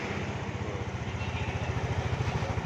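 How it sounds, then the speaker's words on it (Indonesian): A motorcycle engine sits at idle close by, putting out a steady, rapid low putter with even pulses and no other sounds. "Ini mesin hidup, geng."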